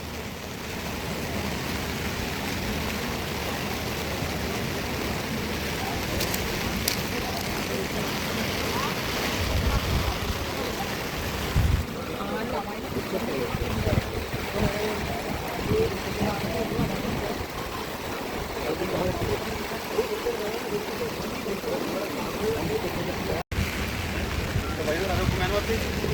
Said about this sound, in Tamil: தண்ணி ஒரு போக்க பார்த்தீங்களா